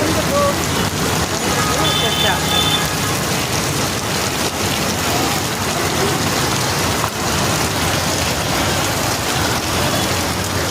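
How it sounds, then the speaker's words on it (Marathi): Heavy rain pours down steadily in Nalasopara, a dense continuous hiss of drops drumming on surfaces, loud and unbroken throughout. "पावसाने भरपूर धुमाकूळ घालायला सुरुवात केलेली आहे."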